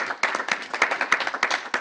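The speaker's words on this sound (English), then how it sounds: "So let's give her a round of applause if she's watching" A small group at a school board meeting gives a brief round of applause, quick uneven claps close by lasting under two seconds.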